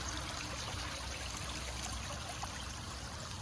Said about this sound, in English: Flowing really well.